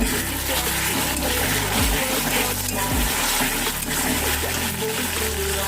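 Chopped tomatoes are stirred in a frying pan over a loud, constant sizzle, with occasional low scraping strokes of the spoon, heard close and continuous throughout.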